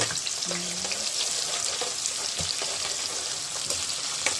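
Chicken frying in hot oil for dum biryani, a steady close-up sizzle and crackle with occasional faint clinks and stirring movements, no voices.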